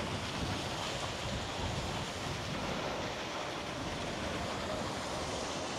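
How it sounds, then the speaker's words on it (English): A waterfall in the UK gives a continuous broadband rushing roar, steady and fairly loud, with a wind-like hiss and no pauses from start to finish. "A waterfall."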